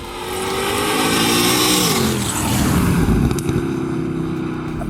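Naturally aspirated sports car engine, one of a Mercedes CLK Black Series, Porsche 997 GT3RS or Ferrari 458, revving hard and close. Its pitch climbs steadily, dips at a gear change, then rises again as a loud sustained howl.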